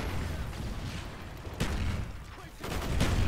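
Bursts of gunfire from Call of Duty Black Ops on Xbox 360 crackle over a dense battle din, with sharp shots near 1.6 and 3 seconds and faint talk mixed in.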